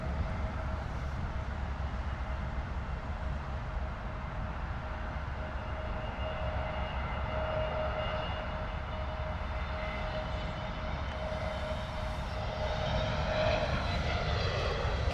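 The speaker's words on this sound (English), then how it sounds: "A320neo coming in, British Airways." British Airways Airbus A320neo landing at Heathrow, a steady moderate jet rumble with a faint whine, growing slightly louder toward the end in windy outdoor conditions, no voices.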